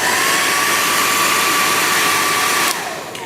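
A hair dryer blows with a steady, loud whooshing roar, then drops abruptly to a lower setting near the end.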